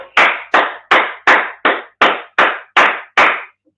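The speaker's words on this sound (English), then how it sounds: "Clap it up." Eight sharp, evenly spaced claps in a steady rhythm, loud and close, ending abruptly with no voices.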